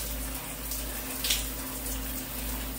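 Shower water runs steadily onto hair, a close, continuous rushing spray with no voices over it.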